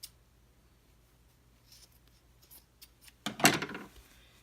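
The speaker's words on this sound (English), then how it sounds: "you're going to want to cut off all your loose ends" Scissors snip loose thread ends from a sewn fabric pouch, a short cluster of close, crisp cuts near the end after near silence.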